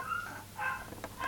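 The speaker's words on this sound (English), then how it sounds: "yeah, that's my dog" A pet dog gives several short whiny yips and whimpers, close by and moderately loud, in quick uneven bursts over a quiet room.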